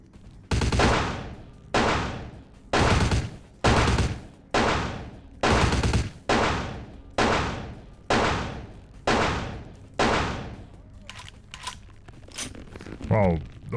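Gunfire in the video game Vampire: The Masquerade – Bloodlines: around ten loud, evenly spaced shots about a second apart, each with a sharp crack and a decaying echo, followed by quieter clatter and rustling.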